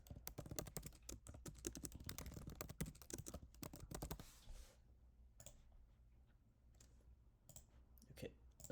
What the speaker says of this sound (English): So let's just type that in.